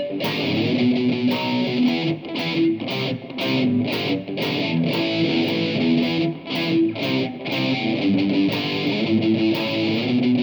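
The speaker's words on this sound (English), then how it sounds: "the whole of part B should sound like this" Part B of a piece played slowly on a distorted electric guitar through an effects unit, a steady stream of sustained, overdriven notes counted out in a slow, even rhythm, loud and close with no talking.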